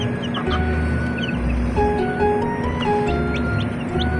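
Rhode Island Red chickens cluck and call repeatedly close by in a busy farm setting, their overlapping calls running continuously with fainter bird chirps behind.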